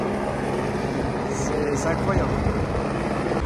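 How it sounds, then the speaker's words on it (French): Helicopter setting down nearby during a Gumball car rally convoy, a continuous rotor and engine roar that fills the background while someone speaks briefly over it. "il y a un hélico qui se pose"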